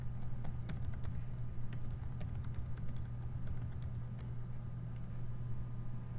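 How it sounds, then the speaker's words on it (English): Rapid, irregular typing on a computer keyboard, with crisp close key clicks and occasional heavier strokes over a faint steady hum, no voices. "just type some random stuff"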